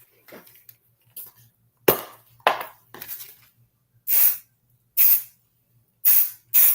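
A spray can used to tack down a measured piece of material gives a few soft clicks and rustles, then four short, sharp hissing bursts in quick succession, close and clear.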